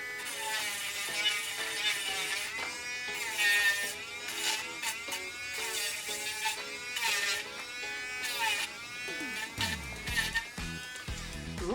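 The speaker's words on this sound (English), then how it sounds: "I love my little Dremel pen." A small Dremel pen rotary tool grinding copper pipe for a bracelet, a high, wavering buzz that rises and dips under load for several seconds, close and fairly quiet.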